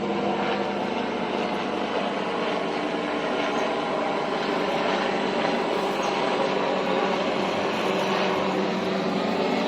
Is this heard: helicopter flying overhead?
yes